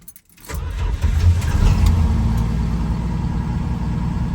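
A 1973 Plymouth Scamp's engine cranks and catches after a brief quiet moment, then settles into a loud, steady, rumbling idle close by, with no voices.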